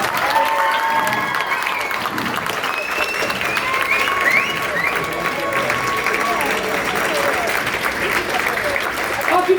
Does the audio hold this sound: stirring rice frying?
no